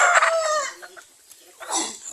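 A rooster crows close by, a strained rising call followed by a short pause and a second crowing burst.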